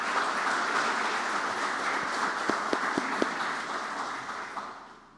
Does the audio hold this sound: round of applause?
yes